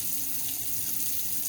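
Water runs steadily from a tap into a sink, a continuous, loud, even hiss with no pauses or other sounds.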